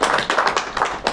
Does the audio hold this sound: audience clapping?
yes